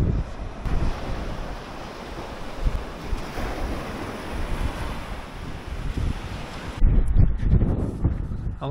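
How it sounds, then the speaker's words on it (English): Strong coastal wind at Cayton Bay, North Yorkshire, buffets the microphone over steady surf, a continuous roaring rush that briefly drops and then gusts louder again near the end. "It's a bit windy up here."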